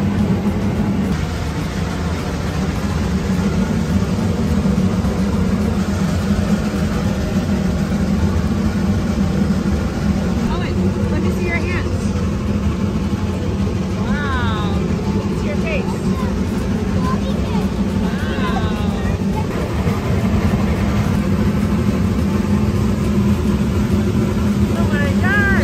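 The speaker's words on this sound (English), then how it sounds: "you can hear the engine working harder and harder" A heavy steam train engine labouring up a steep 9% grade roars loudly and continuously, a dense low rumble straining without letup, with faint higher whistles and squeals mixed in.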